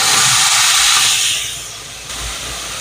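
Chutney poured into a hot pan of sizzling mustard seeds, curry leaves, cinnamon and chillies for a Chennai-style chutney, giving a loud, steady, close hiss that eases off partway through and then continues more softly.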